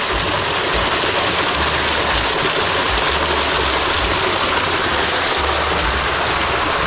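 Water gushes steadily from a one-horsepower solar-powered Pedrollo pump, a constant broadband rushing splash close by with a low motor hum beneath.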